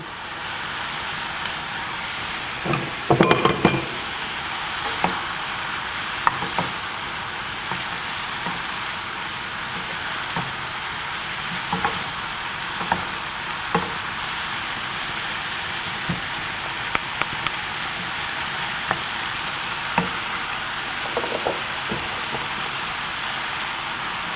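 Green peppers sizzling and being stirred in a pan while preparing chicken shawarma, a steady hiss of frying with scattered scraping clicks of the utensil, no talking.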